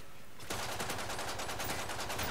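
Rapid automatic gunfire from Call of Duty Modern Warfare 3 bursts in after a brief quiet start and rattles on steadily and loudly, with no talking over it.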